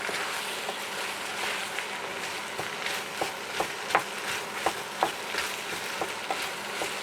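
Ground beef browning with mixed herbs, nutmeg and paprika in a goulash pan gives a steady, close sizzle, broken by irregular clinks and scrapes of a spoon stirring the meat round.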